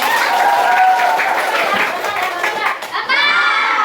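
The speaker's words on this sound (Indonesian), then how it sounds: "Ya, tepuk tangan beri kasih." Classroom of children clapping together during a computational thinking lesson, a dense burst of applause mixed with kids' voices and chatter, loud and close throughout.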